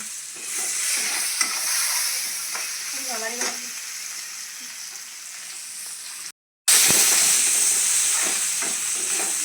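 Onions and bay leaves sizzling in hot oil while being stirred, a steady close frying hiss with scraping stir strokes and a brief cutout before the sizzle returns louder.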